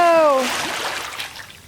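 A person dives into a swimming pool at a house being renovated, with a broad, close splash that quickly fades into trickling and dripping water, preceded by a brief vocal exclamation.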